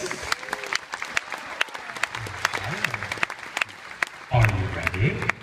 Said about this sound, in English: a big round of applause for Robert Douglas